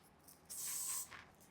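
Hold hairspray hisses in one short burst of about half a second onto hair during bridal styling, close but quiet, with no talking.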